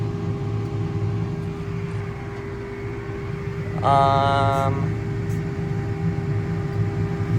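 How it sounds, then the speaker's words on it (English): Tractor engine droning steadily while clearing deep, hard-packed snow in a blizzard, with a strained rising whine from the hydraulics for about a second midway, steady and close throughout. "the hydraulics in this tractor suck ass"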